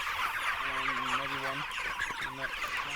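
Broiler chickens in a pasture pen give a few short, nasal clucking calls, fairly close, over a bed of outdoor noise.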